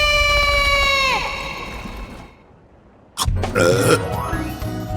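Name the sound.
burp after eating snow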